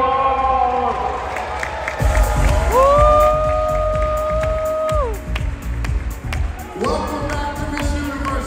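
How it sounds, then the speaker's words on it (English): Audience applause and cheering at the Miss Universe 2021 pageant swell from a live crowd, with whoops and a shouted cheer over dense clapping, punctuated by sustained musical tones and a host's voice. "and applause everybody, applause!"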